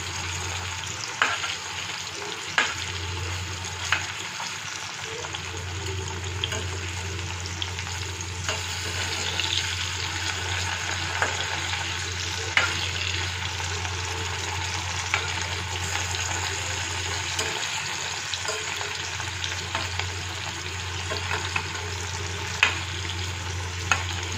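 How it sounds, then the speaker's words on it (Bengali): Paneer pieces lightly frying in shallow oil in a pan, a steady soft sizzle with occasional small pops and clinks, continuous and close with no talking. "একটু হালকা ফ্রাই করে নেব, ডিপ ফ্রাই করব না।"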